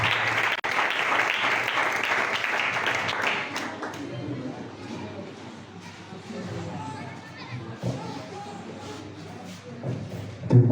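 A church congregation breaks into loud, dense applause at first, which fades after a few seconds into murmuring, shuffling and scattered thuds, with a louder burst right at the end.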